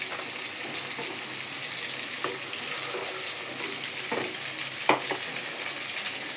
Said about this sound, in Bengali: এদিকে মাছও ভাজা হয়ে যাচ্ছে।